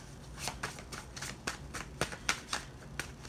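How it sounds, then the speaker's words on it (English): Playing cards are shuffled close up in quick, crisp riffles, a rapid run of soft flutters and snaps with no talking. "Card shuffling ASMR real quick."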